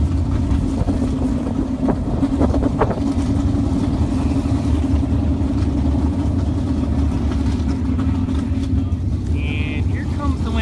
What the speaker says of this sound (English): We got motors fired up, and we're ready to go with Pro 1, round 1.